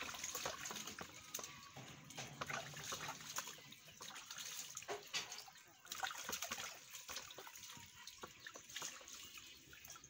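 Water runs and trickles while goat meat for goat head and leg soup is rinsed in an African village kitchen, a soft, continuous splashing and dribbling heard faintly and close by.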